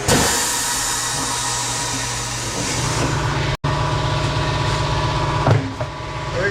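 Coats 40-40SA tire changer working a tire off a wheel, a steady loud mechanical whir and rumble throughout, briefly cut out once, with a few clunks near the end.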